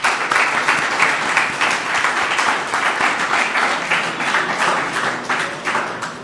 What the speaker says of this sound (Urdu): ان کے لیے تالیاں